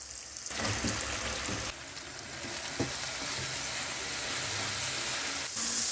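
Capsicum frying in spice masala for an egg dish, a strong continuous sizzle and crackle in a pan, broken by a few spatula knocks and shifts in intensity as it is stirred, with no speech.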